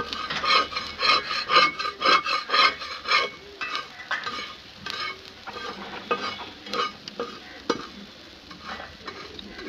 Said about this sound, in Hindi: इसको थोड़ा थोड़ा सा हल्का हल्का पीसते जाएं यहीं पे